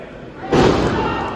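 A wrestler's knee drop lands on the ring mat at an extreme wrestling event, one sudden heavy thud midway through amid a noisy crowd and a commentator's voice.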